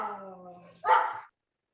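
A dog barks in the background over a participant's open microphone on a video call, starting as a drawn-out whine or tone and ending in one sharp, fairly close bark.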